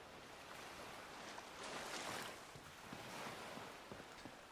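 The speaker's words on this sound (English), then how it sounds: "Yeah, a little waterfall." A small waterfall at a shrine in the video game Fallout 4 makes a steady, dense rush of falling water. The noise stays continuous and even throughout, with slight swells and no voices.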